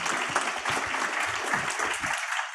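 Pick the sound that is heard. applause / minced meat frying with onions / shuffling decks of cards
applause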